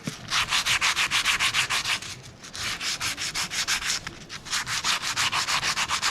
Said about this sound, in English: It's just makes me feel good to polish off like burnt oil and stuff that's gathered over the year